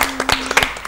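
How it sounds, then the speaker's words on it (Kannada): Short burst of studio audience clapping on a Kannada cine quiz show on DD Chandana, a brief patter of hands over a faint steady hum. "ಉತ್ತರ ಕರೆಕ್ಟ್ ಆಗಿದೆ ಅಂತ ಹೇಳಿ ಚಪ್ಪಾಳೆ ಹೊಡಿತಾ ಇದ್ದಾರೆ."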